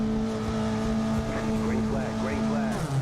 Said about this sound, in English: Engine revs are rising.